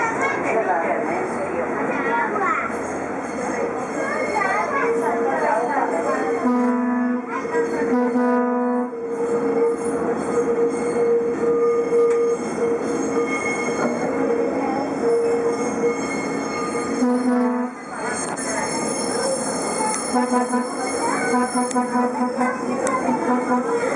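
The Tren de las Sierras rolls along the rails near Valle Hermoso, Córdoba, with continuous rumbling and rattling and some squealing wheel tones, as people talk throughout.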